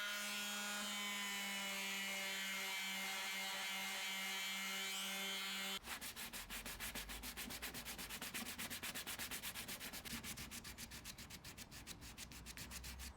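Hand sanding of Bondo body filler on a rusted Corvair body panel, fast rhythmic rasping strokes, close and loud, following a few seconds of quieter background.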